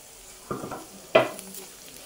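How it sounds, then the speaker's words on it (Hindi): Green chillies and curry leaves fry with onions in a pan under a soft, steady sizzle, broken by two brief stirring scrapes close by. "त्याला पण थोडंसं फ्राय होऊ द्यायचंय."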